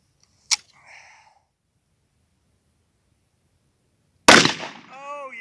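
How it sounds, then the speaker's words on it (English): Two sharp pistol shots from a Rock Island handgun fired outdoors, a short crack followed by a ringing tail, then a few seconds of quiet before a louder second shot, with echoing rings after it. "Let's shoot this Rock Island and see what happens."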